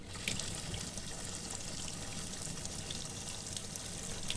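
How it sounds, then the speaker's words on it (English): Water trickles from a small tap into the bait tank of a Quintrex F450 Hornet boat, a soft continuous splashing and dribbling heard close but faint, with no voices. "always just have some water trickling in there, or open it right up and get water going in there as fast as I want"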